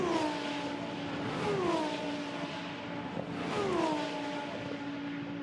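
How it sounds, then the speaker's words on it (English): Lamborghini Super Trofeo race cars crossing the line at Imola, several of them in turn, each engine whine rising and then falling as it passes nearby, the passes following each other in quick succession over a constant hum of track noise. "The rest of the traffic comes pouring over the line"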